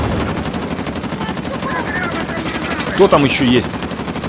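Rapid machine-gun fire rattles continuously in the action game Uncharted: The Lost Legacy, dense and loud throughout, with a brief burst of louder impacts near the end while someone speaks over it.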